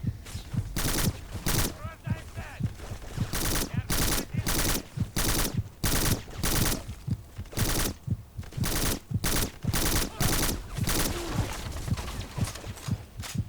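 Gunfire in the video game Black, rapid bursts of loud shots in a fast, uneven rhythm, near and punchy, with brief pauses between volleys and a voice talking now and then underneath.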